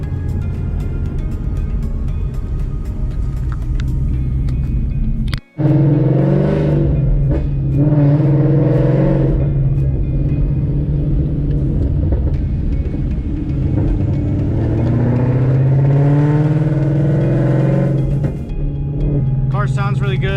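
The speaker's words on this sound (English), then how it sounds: "Car sounds really good, handles well." A Procharger-supercharged 5.0 Ford Mustang engine rumbles and revs up loudly, rising in pitch with a steady supercharger whine, then settles before climbing again.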